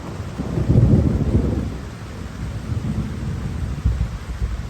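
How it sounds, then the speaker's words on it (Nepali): Heavy thunder rolls during a rainstorm, a loud, deep rumble that swells early and then fades into a steady background of falling rain, with a smaller low crack later on and no voices. "चट्याङ्गी यत्रो ठुलो आइरहेछ"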